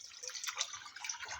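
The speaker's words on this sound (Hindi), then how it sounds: "ये 3 गिलास यखनी के है। तो अब मैं इसको डाल दूँगी।" Chicken yakhni stock is poured into a pot for pulao, making a faint continuous liquid splashing and trickling sound.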